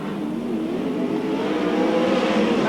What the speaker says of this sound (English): in the number 53 car now as he moves up to attempt an inside pass on Brent Lozman.